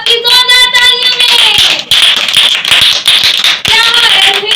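Loud, dense audience applause greets a child contestant called up at a church kids' ministry Bible commandments competition, rolling continuously for several seconds with a brief dip midway, with no speech over it.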